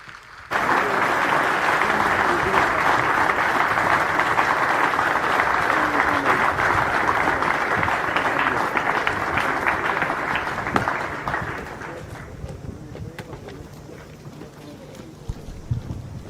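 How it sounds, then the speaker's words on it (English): Sustained, loud applause from a large audience fills an outdoor passing out parade at the Indian Naval Academy, Ezhimala, honouring awardees and the champion squadron, then thins to scattered claps and breezy background. "please give a huge round of applause to all the awardees and the Champion Squadron"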